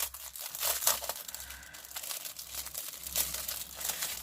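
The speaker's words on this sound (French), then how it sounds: "des sachets pour emballer vos petits cadeaux" Crinkly plastic gift sachets being handled up close, a continuous loud rustling and crackling with bursts of sharper crinkles, no voices.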